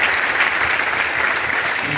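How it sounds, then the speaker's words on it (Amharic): A church congregation applauding, dense continuous clapping from many hands held at a loud, even level throughout a short stretch. "አጨብጭቡ ነው"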